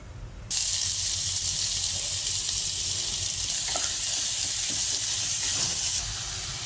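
Chopped onions hit hot oil already holding cloves and cinnamon, bursting into a loud, steady sizzle that holds for about six seconds before easing slightly, with no voices.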